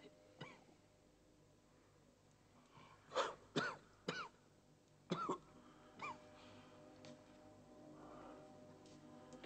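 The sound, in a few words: person coughing on request during medical exam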